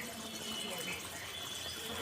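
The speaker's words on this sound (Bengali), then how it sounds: "গরম জলটা দিয়ে দেবো।" Hot water pours into a pot of mutton curry during home cooking, a steady splashing wash of liquid heard close and moderately quiet throughout.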